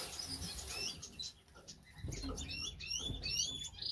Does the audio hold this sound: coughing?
no